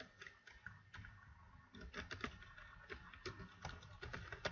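Typing on a computer keyboard while entering a form title in a database program: steady runs of light, close key clicks with small pauses, heard alone at low level.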